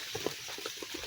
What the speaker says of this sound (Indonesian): sudah hampir mendidih guys